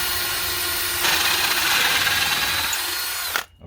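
Cordless drill boring through wood, a close, loud whine that holds steady, rises slightly in pitch partway through, and then winds down abruptly at the end.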